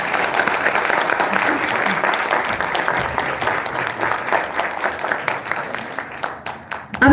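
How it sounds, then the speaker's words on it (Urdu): An audience at a staged gathering honouring a scholar's son applauds: dense, sustained clapping from a large crowd that stays loud and steady for about seven seconds, with voices faintly mixed underneath. "ایک دفعہ اور تالیاں ان کے لیے."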